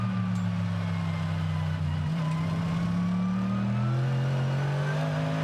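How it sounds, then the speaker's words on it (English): A Mercedes GT race car at a Sydney circuit during a GT World Challenge Australia race holds a deep, torquey engine note that climbs gradually in pitch, loud and continuous throughout. "Cool sounding car, the Mercedes."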